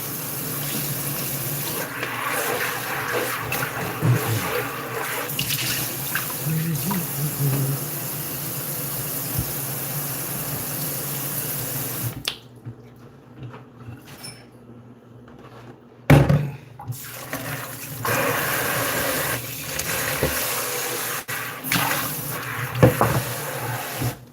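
Running tap water splashes steadily over coconut pieces being washed in a kitchen sink, loud and continuous, breaking off briefly midway before resuming.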